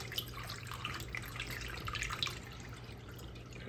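Water being poured by hand to refill an AeroGarden Farm 24 XL hydroponic planter, a continuous light splashing and trickling with small drip-like accents, fairly quiet and close.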